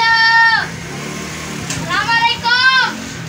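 A black goat bleats nearby with three drawn-out calls, one at the start and two near the end, against steady outdoor background noise in a village.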